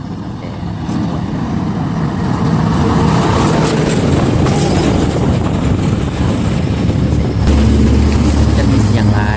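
Roadside traffic of large and small vehicles rolls past continuously, a loud, broad rumble of engines and tyres swelling as heavier trucks go by, with a deep low drone building near the end.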